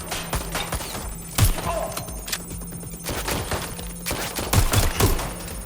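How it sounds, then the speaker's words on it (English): Video game gunfire from Watch Dogs: Legion, rapid bursts and volleys of shots with thuds and impacts, loud and fairly close, mixed with game voices and effects. "Get to cover! Taking fire!"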